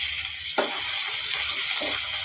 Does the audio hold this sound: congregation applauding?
no